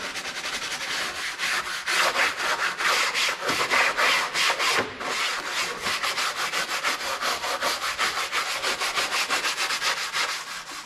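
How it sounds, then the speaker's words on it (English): Steady, loud drill brush scrubbing against a pickup truck's plastic trim, a continuous rough rubbing with slight rhythmic pulsing throughout, no talking. "I'm using a drill brush"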